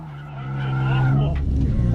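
A Nissan 350Z drifting on a track, its tires skidding in a loud, sustained squeal that rises over the low engine drone and continues to the end, with a voice briefly audible over it.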